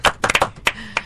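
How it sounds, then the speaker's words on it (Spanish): A small studio audience on a Spanish-language TV magazine show gives a brief burst of applause: about half a dozen sharp, close hand claps in quick succession. "Aplausos para mí."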